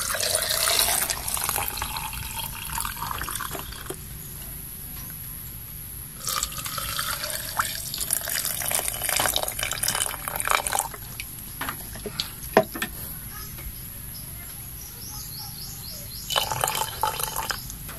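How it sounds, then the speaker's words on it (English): Hot water runs and splashes into a bottle in bursts, stopping and starting a few times, with a steady high hiss throughout and no talking. "I put the banana peel and the hot water to the bottle."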